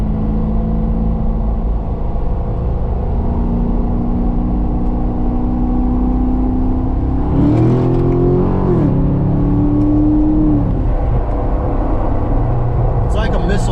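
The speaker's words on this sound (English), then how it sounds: "you get the RPMs up, and then you just take off. And it sounds phenomenal" A Chevy Corvette Grand Sport C7 engine drones loudly and steadily, with a rising rev in the middle followed by acceleration. A voice talks over it throughout.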